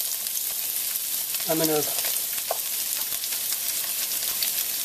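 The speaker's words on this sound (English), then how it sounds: "First, I'm going to stir fry with the garlic and ginger, onions." Garlic, ginger and onions stir-frying in hot olive oil for a Tibetan noodle soup, a steady close sizzle throughout with a brief spoken phrase partway through.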